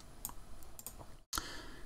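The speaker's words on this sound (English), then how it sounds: "I'm going to right click on the player" A computer mouse right-click while working in the UPBGE game engine, heard as a few soft, quick clicks followed by a brief cut of silence, alone with no talk.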